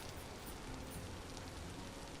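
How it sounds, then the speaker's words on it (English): Steady rain hiss in a hardcore Dwarfmaxing survival game, a dense even wash of drops across the whole stretch with no gaps, moderately quiet and uninterrupted. "It's too rainy."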